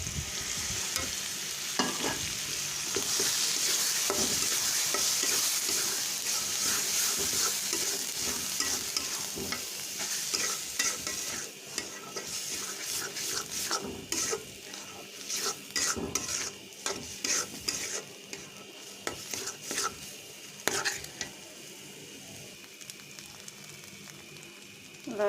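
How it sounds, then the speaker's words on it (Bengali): Bottle gourd peel stir-fried in a pan with ground green chilli, turmeric, cumin and salt, a steady sizzle under repeated scraping stirs of a spatula against the pan, close and continuous with no talking. "লাউয়ের চোচা ভুনা শেষ"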